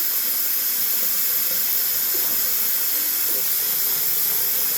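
Water runs steadily from a tap into a bathroom sink being filled for a hot water shave, a continuous close hiss and splash with no speech.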